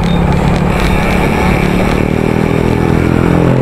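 A motorcycle engine runs loud and close at a riders' gathering at Emma Town Center, giving a steady, dense roar with slight rises in revs throughout, no voices over it.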